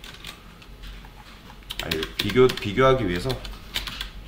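Typing code on a computer keyboard, with a short run of clicks under a person speaking Korean.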